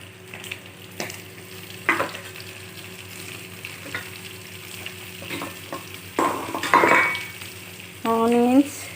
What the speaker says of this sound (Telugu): ముందు కొంచెం ఫ్రై చేసుకోవాలి చికెన్.